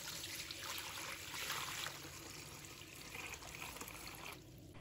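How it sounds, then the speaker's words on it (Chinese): Clean water pours into a basin holding tomatoes and a spoonful of table salt, a faint, steady trickle heard on its own. "倒入清水"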